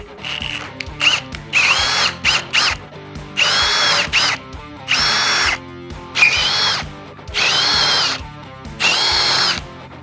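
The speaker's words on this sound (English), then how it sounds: "I'm just cleaning these holes out with the drill bit before installing the new bracket" A power drill runs a bit through existing rivet holes in a Ford OBS F250/F350 HD truck frame during a rear suspension job, whining in repeated loud bursts of about a second each with short pauses between.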